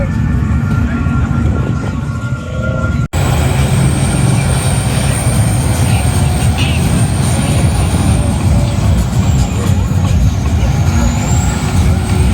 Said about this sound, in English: This mega truck making the Jeep on 44s look small